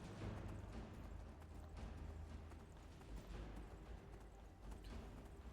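A horse gallops in the Skyrim video game, its hooves drumming in a quick, continuous rhythm under a low background rumble, faint and with no speech.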